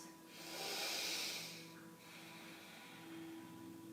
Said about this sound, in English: A few deep breaths.